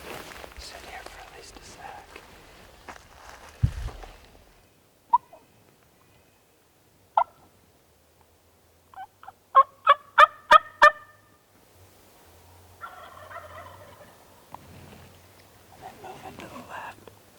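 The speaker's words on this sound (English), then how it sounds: "Gotta be those turkeys that we were on this morning." Several Merriam's wild turkeys gobble during a spring hunt in South Dakota, a quick burst of about five loud gobbles around the middle, with scattered single calls before it and hushed whispering early and late.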